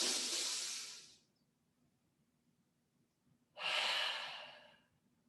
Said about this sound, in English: Let's do 3 big breaths with a pause.